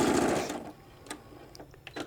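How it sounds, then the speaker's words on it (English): Sewing fabric strips for a shoulder bag, a machine whirs steadily for about half a second, then stops, leaving a few faint clicks and light knocks nearby. "And then just going ahead and sewing all the way across."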